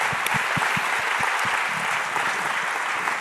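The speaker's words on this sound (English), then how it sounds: "Let's give her a round of applause." Town hall audience at a gun safety event breaks into steady applause, a dense wash of many hands with a few louder claps standing out near the start, sustained and fairly close throughout.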